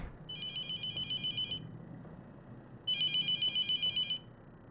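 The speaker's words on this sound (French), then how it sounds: "Putain, arrête avec le téléphone." A telephone in a haunted-morgue horror video game rings in two long bursts of rapid electronic trilling separated by a pause, loud and steady over a dark, low ambient drone.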